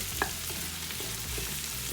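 Fish soup ingredients cooking in a pot, giving a steady close sizzle and bubbling with a few faint clinks of stirring, continuous and without voices.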